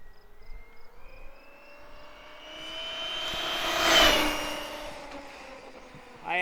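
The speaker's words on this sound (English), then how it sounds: "And here we go for a pass. Rolling onto the throttle." A brushless Traxxas Summit RC truck on 4S or 6S LiPo power runs at full throttle. Its high motor whine swells as it draws near, peaks loudly mid-pass and then fades away, with no talking.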